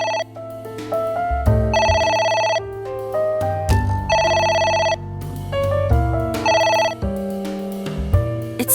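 A phone in the game AI: The Somnium Files rings insistently, several loud electronic ring bursts repeating in regular cycles with short gaps, no voices over it.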